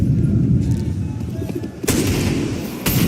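Counter-Strike 2 gunfire during a tournament semifinal match, a dense rattle of shots with several sharp bursts standing out, heard under crowd and caster noise.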